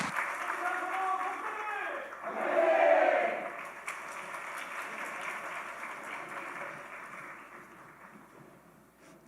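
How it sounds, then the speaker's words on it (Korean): Church congregation at a Friday service applauding in encouragement after a prayer, a soft, diffuse wash of clapping that swells briefly then settles into a steady, fairly distant patter as it slowly fades. "우리 격려의 박수 하겠습니다."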